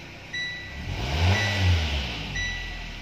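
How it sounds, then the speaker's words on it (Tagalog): A Nissan Exalta engine rising in a rev as the accelerator is pressed after fuel filter and fuel pump hose replacement, a low engine rumble swelling and easing over a few seconds, with faint steady tones above it. "So apakan po natin ng silinyador, sir ma'am, at tignan natin kung effective siya"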